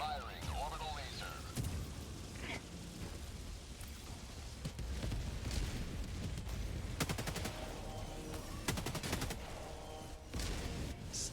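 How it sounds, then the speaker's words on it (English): Orbital laser strike in Helldivers 2 on a snowy, icy battlefield, a roaring, crackling barrage layered with blasts and sharp bursts across the whole stretch, with a voice speaking over parts of it. "Firing orbital laser."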